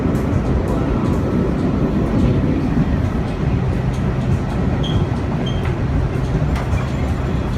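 An older NYC subway train, a BMT/BRT Standard or D-Type consist, runs steadily with a loud, continuous rumble and faint wheel clatter heard from inside the car, with no voices.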